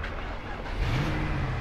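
BMW cars revving their engines somewhere behind, a low rumbling engine roar that swells midway and holds at moderate distance.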